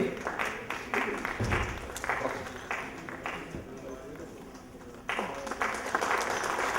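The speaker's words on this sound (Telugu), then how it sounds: "మా కళాకారులకి మెమెంటోస్ కంటే మీరు చప్పట్లు ఎక్కువ ఇష్టం అండి" Audience applause at a stage event honoring performers, with broadband clapping texture running throughout, brief dips and a renewed swell near the end, with talk faintly underneath.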